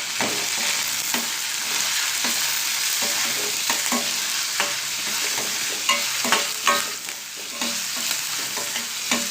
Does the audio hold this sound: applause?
no